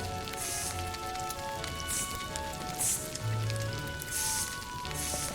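A barbecue sizzle from the video game Pokemon Sword crackles and hisses steadily in short rhythmic bursts, heard alone with no voices.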